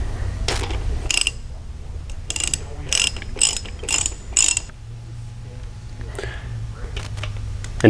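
A ratchet clicks in short bursts while an outer bolt is tightened on a GM starter during reinstallation, the close pawl clicks arriving in several quick runs over a low hum.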